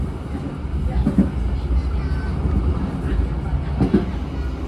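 Siliwangi passenger train running on the Bandung-Sukabumi line at around 60 km/h, heard from inside as a steady low rumble with rhythmic rail clatter and a couple of brief louder knocks.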